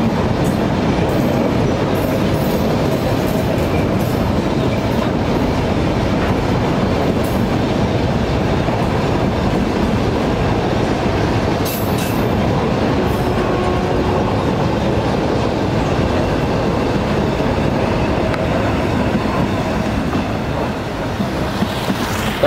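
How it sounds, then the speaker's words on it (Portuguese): Freight train with hopper wagons rolling past on rails, a loud, steady rumble with faint clickety-clack and occasional brief wheel squeals, sustained close by for the whole stretch with no talking. "Vagão é esse? Ah, o CHP de novo."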